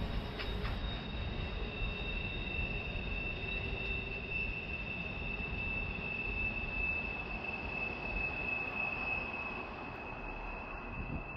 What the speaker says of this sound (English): The pair is the power for the rock train in the consist and is en route to Erwin, Tennessee